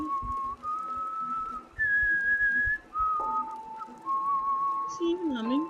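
A character in the fantasy video game Enderal whistles a clear, wandering tune of sustained notes with short breaks, near and prominent, ending with quick sliding pitches.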